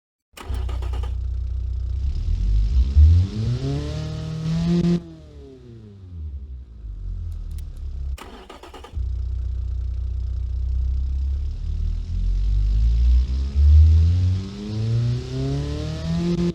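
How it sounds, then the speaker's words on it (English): Car engine in the Automation game, a tuned build with a bumped cam profile, revs up through repeated climbing sweeps, drops back briefly, then revs hard again, loud and close with no talk. "Engine sounds always delightful."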